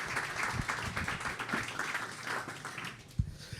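Audience applause for a guest at an indoor talk event, a moderate, fairly distant patter of many hands clapping that thins out toward the end, with a sharper single tap near the close.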